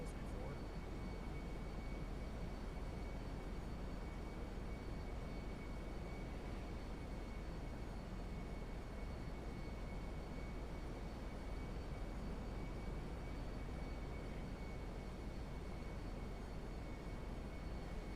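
An airplane in a GTA roleplay game taxis along the airfield at Sandy Shores after landing, heard as an even, unbroken broadband rumble and hiss that holds at one level throughout.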